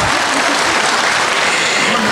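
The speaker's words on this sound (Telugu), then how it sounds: "మీరు ఇంకొక్కసారి చప్పట్లతో కాస్త" An audience at a dance performance event claps loudly and continuously, a dense, close wash of applause with no pauses.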